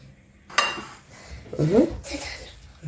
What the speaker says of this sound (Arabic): هغرفها بقى في الطبق